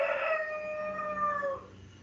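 A rooster gives a single long crow, fairly faint and somewhat distant, its drawn-out call sliding slightly downward before trailing off, with no one talking.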